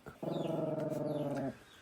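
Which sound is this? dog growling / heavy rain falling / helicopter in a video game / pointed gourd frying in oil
dog growling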